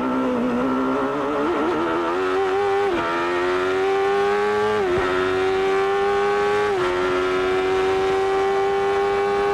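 An IndyCar engine roars loud and constant from the onboard camera during a 1993 race, its pitch climbing steadily and dropping sharply at each of several upshifts through a six-speed gearbox.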